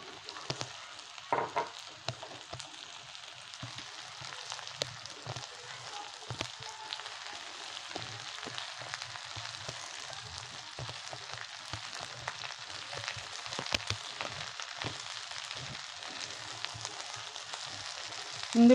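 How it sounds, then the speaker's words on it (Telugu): Okra and onions frying in a covered pan, a soft, steady sizzle and hiss running throughout at low level, with faint scattered clicks and pops. "ఇప్పుడు వీటిని సాఫ్ట్ అవ్వడానికి ఒక 3 మినిట్స్ క్యాప్ పెట్టి ఫ్రై చేసుకుందాం"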